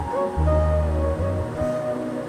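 A passenger launch approaching the Ashuganj housing launch ghat on a river gives off a steady, droning engine hum with low tonal harmonics, moderately close, amid faint outdoor wash and no talking.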